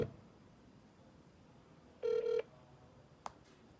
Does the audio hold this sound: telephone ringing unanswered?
yes